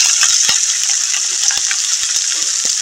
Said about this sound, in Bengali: পেঁয়াজ কুচোনা ছিল 3টি, তা এটাও দিয়ে দিলাম।